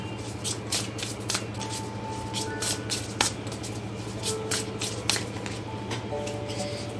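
Tarot cards shuffled and drawn by hand, a dense run of quick riffling flicks and slaps repeating steadily, close-up with no voices.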